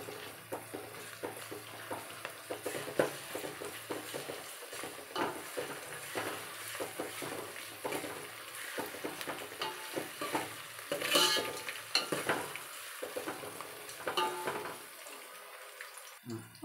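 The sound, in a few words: frying onions stirred with ginger garlic paste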